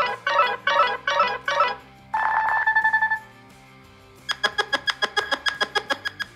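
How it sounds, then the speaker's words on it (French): Custom Nothing Phone (2a) ringtone playing alone: bursts of four quick bright chirps, a sustained buzzy tone, then a rapid run of about a dozen sharp electronic clicks, loud and close. "Regardez par exemple, on a des sonneries personnalisées"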